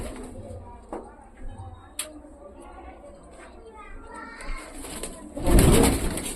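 Female pigeons at a loft in Meerut, Uttar Pradesh coo softly amid ambient chatter and rustling, with a louder burst of noise near the end; a voice talks over them.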